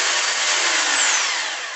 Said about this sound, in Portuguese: E se eu colocar no martelete, ó, é o barulho da batida.